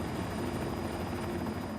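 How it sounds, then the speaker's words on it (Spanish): A helicopter's rotor and engine produce a dense, steady, loud whirring drone during a dramatized flight in stormy conditions. "De pronto, el helicóptero comenzó a girar fuera de control y se desplomó hacia la tierra."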